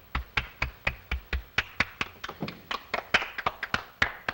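A small group claps in quick, uneven bursts for several seconds, sharp hand claps close and fairly loud, with no voices.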